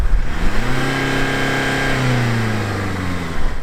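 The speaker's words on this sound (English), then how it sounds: "let's hear the exhaust" A car engine revs loudly, its exhaust note climbing in pitch, holding, then falling back, a single close-up rev without speech.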